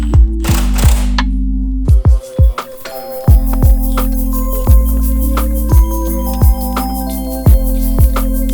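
A ratchet wrench clicks in repeated bursts, with short pauses between strokes, while bolts are tightened on the rebuilt suspension of a Toyota JZX100 Mark II. The sound is close and loud with no talking.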